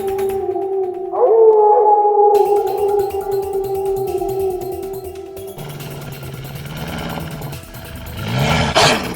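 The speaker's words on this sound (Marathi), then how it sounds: "तिला कोल्ह्याचा आवाज ऐकू आला" A jackal howls as a sound effect in an animated Marathi children's moral story: one long, drawn-out wavering howl that rises partway through and holds steady, then gives way to rougher animal noises and clatter.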